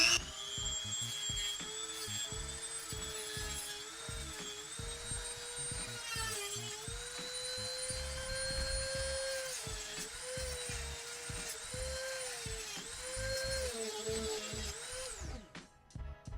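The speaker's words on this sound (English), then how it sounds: "I am going to rely on my handy dandy Dremel tool and see if I can cut this guy" A Dremel rotary tool cuts through a plastic peg on a Warhammer 40K model, giving a steady high-pitched whine that rises and dips slightly as it bites, close and continuous for about fifteen seconds before cutting off.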